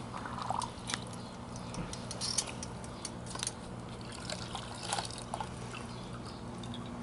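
Water trickles and dribbles onto a sponge to wet it. The sound is soft and steady with small splashes and drips over a low hum, and there is no talking.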